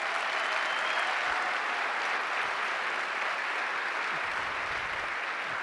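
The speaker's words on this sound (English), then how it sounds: "so I think we should give them a round of applause." Lecture audience applauding teachers seated in the hall, a thick, continuous round of clapping from a large crowd that stays even and fills the room without talk.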